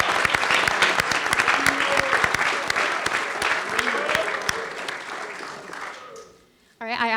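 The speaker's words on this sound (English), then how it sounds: "Can we please get a round of applause for our winners here tonight?" Applause from an audience honoring competition winners on stage at a college elevator-pitch event, dense steady clapping for about six seconds that fades out before a voice starts speaking.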